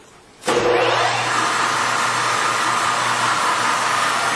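Servo 16.5 x 40 lathe spindle spinning at 1,250 RPM, kicking on abruptly after a quiet moment into a loud, steady whirring hum with a constant low tone, close by.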